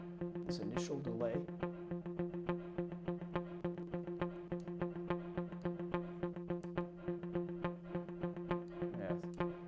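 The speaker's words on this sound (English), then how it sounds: "So you're going to hear this initial delay." A sustained distorted synth or guitar tone pulses with regular repeating echoes from a delay on a reverb send in a Reaper mix, steady and moderately quiet throughout.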